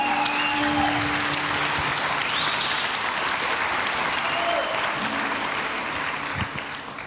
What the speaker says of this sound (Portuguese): Você poderia ter aplaudido ao Senhor por isso.